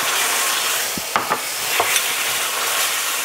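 Tomato paste cooking down in a pot for spaghetti sauce with rib tips, heard as a loud, steady sizzle broken by a few spoon scrapes and stirs, with no talking.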